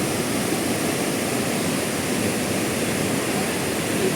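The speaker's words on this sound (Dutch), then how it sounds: "maar dan komen we vervolgens bij die waterval" A waterfall near Kuta, Bali, sends up a steady, unbroken roar of rushing water that stays at an even loudness throughout, with no voices.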